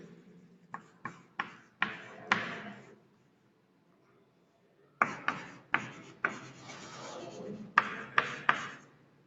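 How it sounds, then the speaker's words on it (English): Writing on a classroom board, close and moderately loud, with quick scratchy strokes and taps in a burst, a pause, then a longer run of rubbing strokes, no talking. "So we'll just write that definition here."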